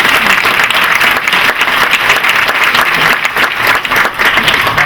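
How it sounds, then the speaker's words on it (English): A large alumni-weekend audience at a college awards ceremony applauds reunion class members, with loud, steady, dense clapping that carries on without a break for the whole stretch. "Can you give these people a round of applause for them?"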